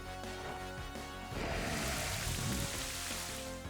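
Rain falling from the Rain Dance move in a Pokémon battle game, a soft hiss that swells into a denser downpour midway and then thins again, laid over looping background music.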